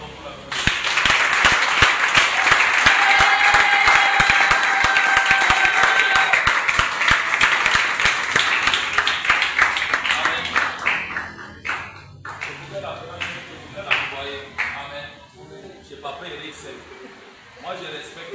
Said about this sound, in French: Acclame pour la gloire de Dieu.